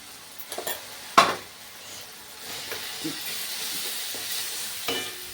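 Okra being stirred and sautéed with garam masala and coriander in a pan: a sharp utensil knock near the start, then a steady soft sizzle with light scraping strokes throughout.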